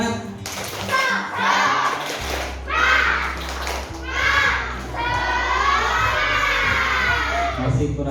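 A classroom of children loudly chants the tepuk semangat rhythm together, shouting in unison in several phrases mixed with clapping, with a steady low hum underneath.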